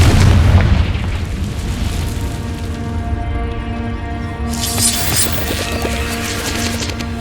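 A Confringo fire spell explodes in Hogwarts Legacy inside a cave, a heavy booming blast up front that rolls into a sustained rumbling tail with crackling debris.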